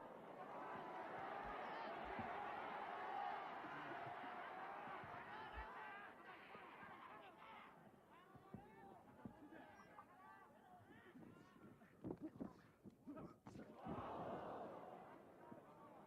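A crowd in a wrestling arena at a 1988 U.W.F. Reborn professional bout roars in a sustained, swelling wash of cheering. It thins into scattered shouts and sharp thuds, then builds again, with a commentator talking over it.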